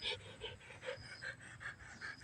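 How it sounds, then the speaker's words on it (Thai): A sick dog breathing heavily, with rapid, rhythmic panting close by: soft, breathy huffs repeating several times a second, fairly quiet, with no talk over it. "ฟังหายใจก่อนครับ"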